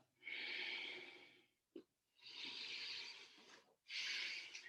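Three slow, deep breaths during a yoga hips and core session, each a long airy inhale or exhale, close and quiet with short pauses between and no talking.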